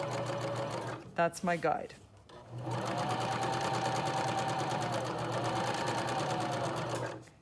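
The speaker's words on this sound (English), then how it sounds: "And sew forward to the opposite end." Sewing machine running steadily for several seconds as it stitches along a fabric hem near a serged edge, preceded by a brief spoken remark and a short pause.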